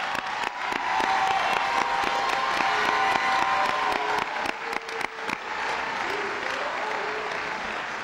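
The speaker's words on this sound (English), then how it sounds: "Now let's give them applause." An audience applauds scholarship recipients at an awards ceremony, sustained clapping with a few light cheers, moderately loud and even throughout, fading slightly toward the end, with no talking.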